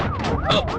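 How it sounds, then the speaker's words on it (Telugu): A vehicle siren on a highway wails in rising and falling sweeps, loud and close, filling the short moment. "ఏంటి ఆ సౌండ్ సైరన్ సౌండ్ అండి"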